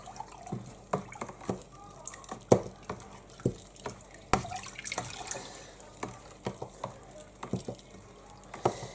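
Grapes being stirred in liquid, giving repeated wet sloshes and drippy splashes in an irregular rhythm, close and fairly quiet, with a voice talking between them.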